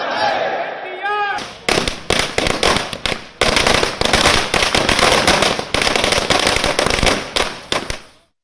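TDP workers setting off firecrackers at a party celebration with cake-cutting, marking two years of Nara Lokesh's Yuvagalam padayatra: after a brief stretch of voices, a loud, dense, continuous barrage of sharp cracks and bangs fills the rest.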